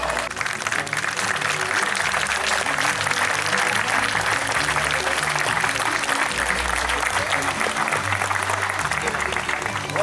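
Continuous audience applause for a singer at an outdoor garden concert, many hands clapping steadily for several seconds with murmured voices and low background sounds underneath.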